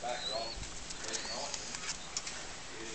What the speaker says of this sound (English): They're crested pigeons, and their common name is a little top-knot pigeon.